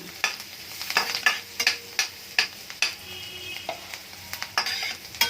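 Garlic, green chili and capsicum fry in butter with a constant hiss, while a spoon scrapes and taps the pan in a quick irregular rhythm close by.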